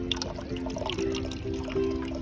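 Water from a rainfall simulator runs off impermeable asphalt pavement in a soft, continuous trickle and splash, faint and steady with no voices.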